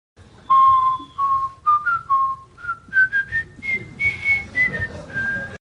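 A single person whistles a bright, bouncy jingle from a soap commercial, clear, close and alone, in a string of short rising and falling notes with no talking.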